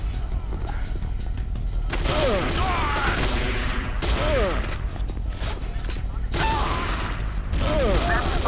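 Gunfire in C&C Renegade, loud bursts of shots in several rapid volleys across the clip over steady game background, with a voice briefly present.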